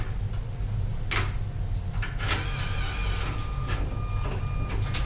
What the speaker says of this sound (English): That'll take it back and forth through the printer real quick, and it'll eject it back out of this slot.